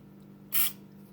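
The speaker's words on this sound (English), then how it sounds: "Spray just a little bit of WD-40, okay?" A can of WD-40 gives a single short, sharp hiss of spray during an acrylic paint pour, close and clear against a quiet background.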